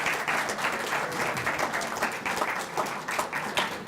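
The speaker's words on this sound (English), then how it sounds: "how about a final round of applause for our 2016 inductees?" A hall of fame induction crowd at Niagara University Athletics gives sustained applause, steady dense clapping filling the room for the whole stretch without a break.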